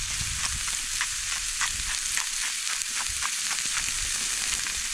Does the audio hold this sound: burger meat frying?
yes